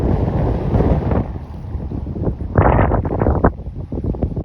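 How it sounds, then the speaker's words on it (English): Loud gusts of wind at an outdoor car camping spot buffet the microphone with a heavy low rumble, swelling and easing in irregular surges, with no talking. "It is windy out here."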